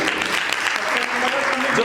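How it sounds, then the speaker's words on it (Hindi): A crowd at a network-marketing training session in Haridwar claps in a loud, continuous burst while a voice carries on over it. "जोरदार तालियां भाई के लिए"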